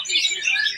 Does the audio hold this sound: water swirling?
no